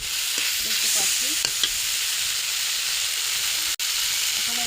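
Mutton with oil and spices sizzles in a wok while being stirred, a continuous close frying hiss broken by a few light scraping clinks of the spoon, with no talk.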